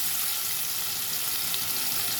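Onions and drumstick pieces frying in hot oil, a steady close sizzle that holds evenly throughout with no talking.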